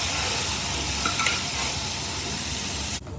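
Cooked chickpeas stirred into a hot pan of spiced oil for kadala curry, a continuous close sizzling and frying hiss with scraping stirs, cut off abruptly near the end.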